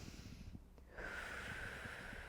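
A forceful exhale through the nose during a core workout, then a steady, close inhale or breath that carries on to the end.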